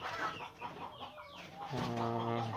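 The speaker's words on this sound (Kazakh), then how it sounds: "үйдің тауықтары және де жаңағы кішкентай қораздар" Household hens and little roosters in a coop, clucking and murmuring at close range, with a clearer, more tonal run of calls toward the end.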